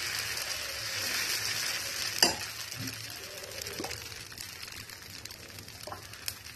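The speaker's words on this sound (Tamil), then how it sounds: "கல் சூடானோன்னையும் நாம் அரைச்சி வச்சு கலக்கி வச்சுருக்க மாவு இதில் ஊற்றிட்டு" Dosa batter made with ivy gourd leaves sizzles on a hot griddle with a steady, close frying hiss. One sharp clack lands near the start.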